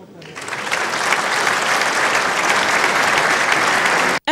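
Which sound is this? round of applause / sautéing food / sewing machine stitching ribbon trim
round of applause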